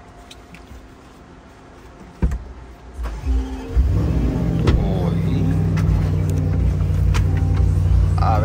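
An off-road pickup truck engine cranks and catches after a few quiet seconds, then settles into a loud, steady rumbling idle close by. A short exclamation is heard just before.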